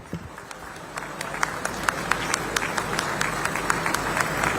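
An audience claps at a semiconductor plant groundbreaking ceremony in Chhattisgarh, scattered sharp claps building into steady applause over a low hum of the hall.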